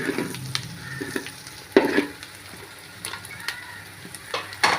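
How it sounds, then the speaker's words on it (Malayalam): Onions sautéing in a pan for homestyle chicken fried rice; a quiet sizzle sits under intermittent spatula scrapes and clanks, with a few sharper knocks against the pan and no speech. "നമ്മുടെ സവോള വഴഞ്ഞു വന്നിട്ടുണ്ട് നമുക്കൊരു കാര്യം ചെയ്യുന്ന സൈഡിലോട്ട് ഇങ്ങനെ മാറ്റി കൊടുക്കാം"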